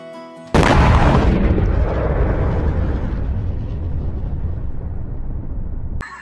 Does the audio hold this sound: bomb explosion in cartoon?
yes